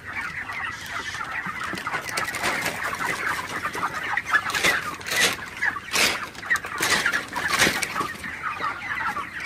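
Broiler chickens on a farm cluck and chatter continuously during sweltering heat, a dense flock sound with overlapping calls rising and falling, no talk.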